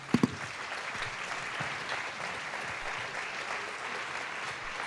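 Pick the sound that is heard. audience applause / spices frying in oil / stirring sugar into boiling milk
audience applause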